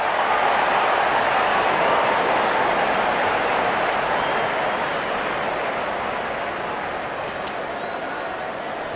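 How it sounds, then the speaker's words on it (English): A stadium crowd in a Real Cricket match roars in a broad, steady hiss of cheering that fills the space, loud at first and slowly easing off. "The crowd is enjoying every bit of this action."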